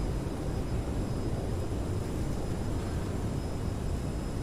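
Thrust reversers of a CRJ-700 regional jet roaring on landing in a flight simulator game, a steady loud broadband rush of engine and airflow noise holding throughout without a break.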